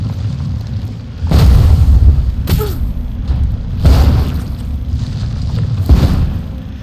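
Explosive devices detonating in the video game Enshrouded, a series of about three heavy, deep booms spaced a couple of seconds apart, each with a rumbling low tail over steady background noise.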